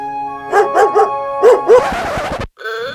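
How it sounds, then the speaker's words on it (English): Several dogs bark in quick bursts, a few sharp yips with pauses between, then a busier flurry of overlapping barks before cutting off. "far from the noise of traffic and neighbors' barking dogs"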